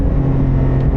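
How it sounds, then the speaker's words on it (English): A Porsche 718 GT4 engine in a rev-matched downshift on the Nürburgring, heard from inside the car as a loud, steady close-up engine roar with a strong low harmonic hum over one second. "GT4, let's rev match."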